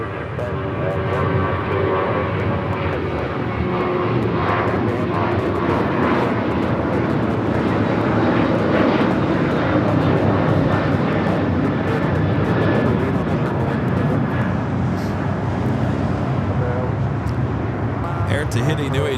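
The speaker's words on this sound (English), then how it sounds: "Air Tahiti Nui Dreamliner heading to Paris, heading up to the north side." An Air Tahiti Nui Boeing 787 Dreamliner takes off from Los Angeles airport, its jet roar steady and loud throughout with a broad rumble, while radio chatter and a voice talk over it.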